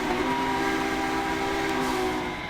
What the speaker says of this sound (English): That's the default whistle that comes with most of the like big locomotives from Subpar Productions.